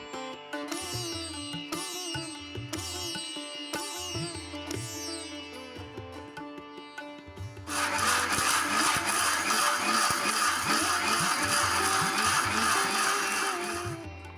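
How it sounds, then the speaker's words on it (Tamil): After light music, a kitchen mixer grinder kicks in loudly, blending sautéed beetroot with a tumbler of water into a smooth chutney paste, its motor whirring steadily for several seconds. "ஒரு மிக்ஸி ஜாரில் சேர்த்து 1 டம்ளர் தண்ணி ஊற்றி நைஸாக அரைச்சி எடுத்துக்கோங்க"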